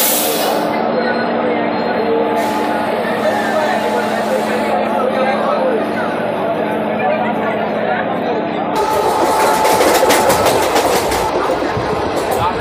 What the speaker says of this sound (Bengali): এই 10 মিনিট লেটে ট্রেন আমাদের ছাড়লো শিয়ালদা প্ল্যাটফর্ম থেকে। এখন ট্রেন ছেড়ে বেরোচ্ছে।